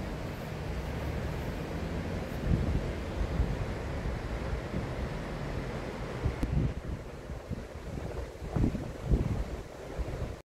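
The Oconaluftee River in Cherokee, North Carolina, rushes in a steady broadband wash of flowing water, fairly close and continuous, with some wind buffeting the microphone and no talking.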